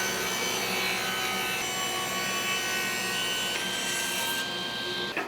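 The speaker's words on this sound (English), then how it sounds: "We need to rip this down to thickness and width." A saw rips wood pieces down to 3/4 inch thickness and 1.5 inch width, a loud continuous whine and grinding rasp at close range that holds steady and shifts pitch slightly near the end.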